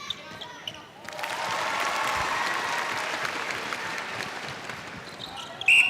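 A single woman claps for herself courtside during a Sri Lanka versus Singapore netball match, her applause blending with a steady, moderately loud arena crowd and a commentator's voice over the action.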